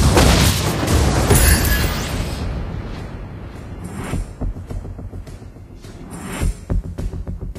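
Magic explosions from Mobile Legends: Bang Bang burst in a loud, boomy rush at the start, then trail into scattered crackling impacts and further sharp blasts, with no talk over them.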